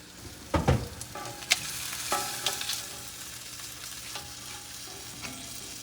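Surf and turf steadily sizzling and frying in a pan, close up, with a few sharp clatters of a utensil near the start and a continuous hiss underneath.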